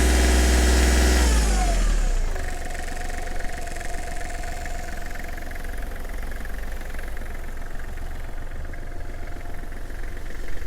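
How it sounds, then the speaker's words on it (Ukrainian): A Kubota GL23 tractor's diesel engine winds down from a louder revved state in the first two seconds, then settles into a steady, soft, muffled idle with a low even rumble, close and continuous, no voices. "Звук все рівно нема дзвінкого цього дзеренчання, він дуже м'ягенький."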